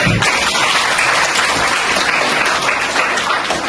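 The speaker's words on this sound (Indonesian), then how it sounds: "Ayo kita berikan aplaus sekali lagi" A classroom group claps after a physics lesson presentation, a dense, steady burst of applause that holds at an even, loud level for the whole stretch with no voices over it.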